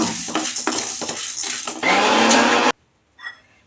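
Chana dal dry roasting in a pan, a scraping, rattling stir with clinks that builds into a louder steady rush, then cuts off to near silence with one brief faint sound.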